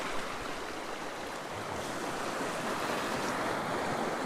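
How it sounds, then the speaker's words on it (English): Waves crash on a rocky shore with a steady, broad wash of surf and some wind, continuous and moderately distant, with no voices. "got some nice waves crashing"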